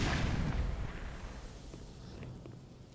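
Grenade explosions in the Black Mesa game, a heavy rumbling blast at the start that fades into a lingering low roar with faint scattered crackles.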